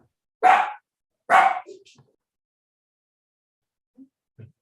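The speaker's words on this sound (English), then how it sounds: "That's Rick's dog" A dog barks twice in quick succession, loud and close, followed by a few faint yips and small noises trailing off, in an otherwise quiet room with no talk.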